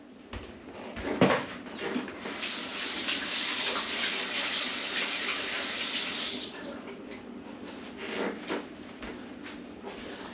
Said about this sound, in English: Now, wash the hands again.